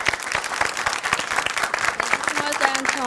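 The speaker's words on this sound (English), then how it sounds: "y'all can clap better than that" Audience applause at a live show, steady dense clapping from a crowd filling the whole stretch, with a few brief voices and a short whistle-like tone near the end.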